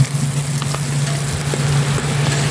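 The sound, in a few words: sweet ham sautéing in a pan for carbonara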